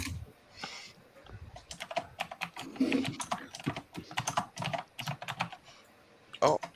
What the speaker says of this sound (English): Oh, some mad typing.